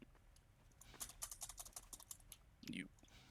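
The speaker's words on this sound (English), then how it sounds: "I know it's a little bit loud with the keyboard" Quick clicking keystrokes on a loud computer keyboard during a Half-Life 2 gaming stream, a short close burst of typing followed by a soft thump and a murmured voice.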